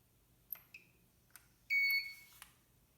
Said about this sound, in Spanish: Ahí oyeron una alarma.